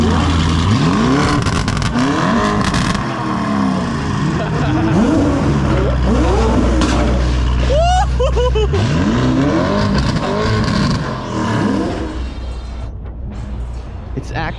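Loud supercars rev and pass at a Cars and Coffee show, with repeated engine revs and rising, falling passes up close, one sharp high whine near the middle, and voices mixed in among the roar.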